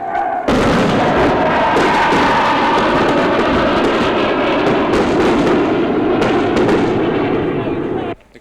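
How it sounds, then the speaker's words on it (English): Rockets fired on an army colony south of a town in the 1971 war, heard as a dense, sustained roar of blasts and crackling bursts that stays loud from start to finish, with a voice faintly under the din. "Firing rockets at what we assume is a new army colony on the south of the town"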